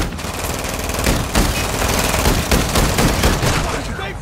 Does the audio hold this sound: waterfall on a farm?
no